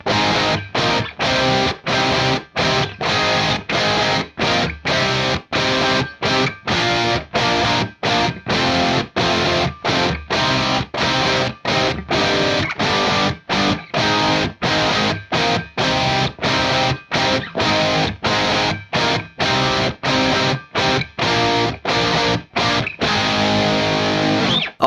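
Two heavily distorted electric guitars in a riff, one adding thick power chords behind the other, play loud and dense in a steady chugging rhythm with short rhythmic breaks throughout, no voices present.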